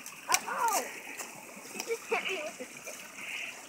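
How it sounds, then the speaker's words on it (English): Water rushes beneath a rotten wooden bridge, a steady splashing flow heard nearby with a person talking over it. "And the water here is rushing pretty good as well."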